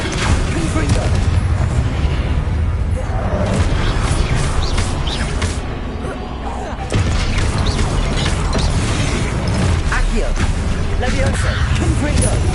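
Repeated Confringo blasting spells detonate in Hogwarts Legacy, a dense run of loud booming explosions and clattering debris that fills the whole stretch, briefly dipping before erupting again, with brief spoken incantations.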